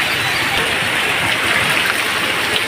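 Heavy monsoon downpour pounds Chhapi village in Sapi panchayat, a loud, continuous hissing roar of rain falling on surfaces with no letup.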